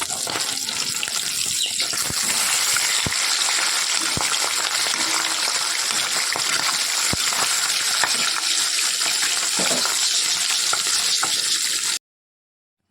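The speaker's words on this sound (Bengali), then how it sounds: "চলো মাছটা একটু ভালো করে ভেজে নিই।" Fish rubbed with turmeric and salt frying in hot oil, giving a steady, loud crackling sizzle that runs unbroken for about twelve seconds, with a few sharp pops and no talking.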